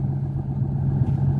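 A Mustang fitted with a 3-inch Magnaflow muffler idles with a steady, low, smooth hum at moderate volume, unbroken throughout the short stretch.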